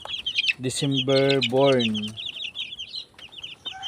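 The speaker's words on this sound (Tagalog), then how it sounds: "ito na yung mga sisiw ko" Chicks peep in a steady high-pitched chorus while a hen gives a loud, drawn-out cluck close by, with brief speech over the birds.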